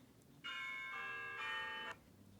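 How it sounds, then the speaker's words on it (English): A bell tower chime sound effect from the iMovie app, a single bright ringing tone with rich overtones lasting about one and a half seconds, soft and alone. "You can add a bell tower"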